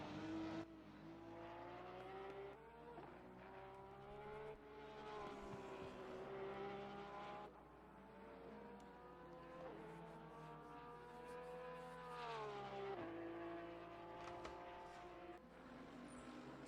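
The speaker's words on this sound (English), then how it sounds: "Forsyth, Porsche 911 GT3. Listen to that. German engineering firing up." A Porsche 911 GT3 racing engine in the video game Assetto Corsa Competizione drones and revs steadily, pitch rising and dropping through gear changes, heard faintly as if at a distance without talk, at Misano.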